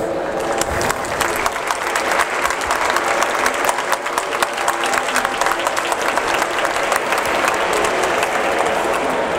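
Audience applause at a public event in the Marche region, dense sustained clapping from a crowd filling the whole stretch, steady and loud with no talk standing out.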